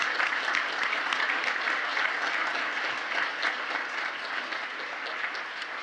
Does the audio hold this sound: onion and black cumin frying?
no